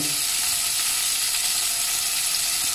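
Sliced garlic hitting hot olive oil in a pan gives a steady, loud, broadband sizzle that holds evenly throughout, with no voices over it.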